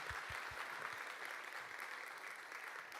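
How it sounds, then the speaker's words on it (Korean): Congregation applauding during a youth worship service at a church, a dense, steady wash of many hands clapping at moderate distance, with a few louder individual claps near the start. "하나님께 영광의 박수 올려드리겠습니다"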